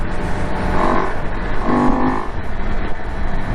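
A motorcycle fitted with a K&N air filter and DNA filter cover runs steadily close by, a loud, continuous engine drone that swells slightly twice as the throttle is blipped.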